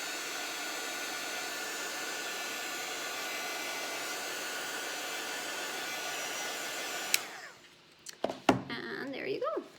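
A handheld heat tool blows steadily and fairly loudly, close by, heat-setting alcohol ink on a craft project, then cuts off, followed by brief handling clatter and a voice.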